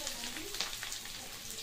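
Pieces of jackfruit sizzle in hot oil, giving a soft, steady crackle throughout with faint speech in the background.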